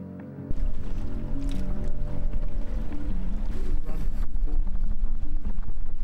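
A fishing boat's outboard motor runs at steady high throttle on a windy lake, a loud continuous drone with wind buffeting the microphone as it pulls away.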